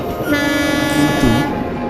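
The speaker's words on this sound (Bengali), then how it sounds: "আমি হর্ন দিই" A train horn sounds at a railway line, a sustained, steady tone over rumbling wheels, loud and close for almost two seconds.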